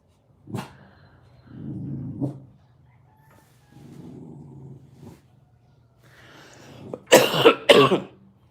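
A dog barks in a few short bursts with pauses between, ending in a louder cluster of sharp barks close by.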